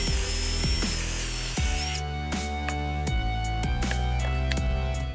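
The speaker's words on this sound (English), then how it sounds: "So I'm going to use some pocket screws to give it some more strength." Power drill driving pocket screws into wood for a workshop stool, a loud steady motor whine with a pitch drop, then repeated ratcheting clutch clicks as each screw seats, with no talk.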